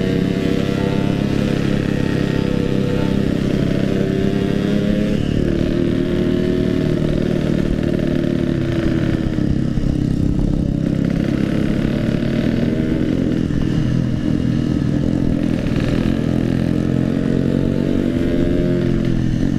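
A Yamaha RX King two-stroke motorcycle revs hard and continuously for a wheelie, its loud rasping engine holding steady with a few surging throttle blips throughout, close to the listener.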